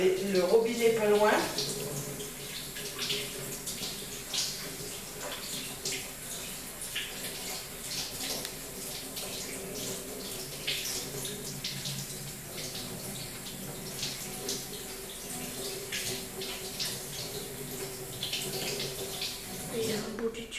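Water runs steadily from a nearby tap in a continuous broadband hiss lasting the whole stretch, with occasional spatters, while people talk over it during a mother-and-daughter DIY tote bag craft session.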